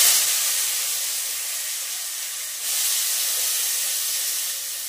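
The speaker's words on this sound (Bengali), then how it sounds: "তো এখন আলু ভাজাটা করে নিই।" Potatoes frying in hot oil give a steady, dense hiss throughout, with a slight rise in intensity midway, close and continuous with no talking.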